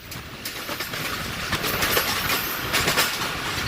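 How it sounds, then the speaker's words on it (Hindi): A Karachi Circular Railway local train rolls past on the line towards City Station, with a loud steady rumble and clattering wheels, sharp clicks and a faint squeal running throughout, close and without talk. "सामने से एक और कराची सर्कुलर रेलवे की गाड़ी जो दावेजी से होती हुई आ रही है"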